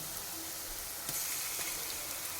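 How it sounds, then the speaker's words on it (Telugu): Ginger garlic paste frying in oil for a beans tomato curry, a faint even sizzle with a quick stirring scrape partway through, short and quiet with no voices. "అల్లం వెల్లుల్లి పేస్ట్ ఇది ఆయిల్లో మంచిగా మగ్గనివ్వాలి"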